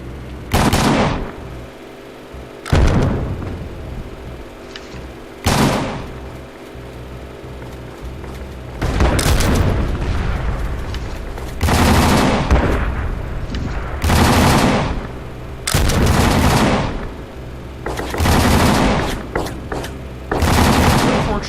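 Video game shotgun fire crashes out in loud, repeated bursts with short gaps between blasts, close and heavy, over game noise with some talk mixed in.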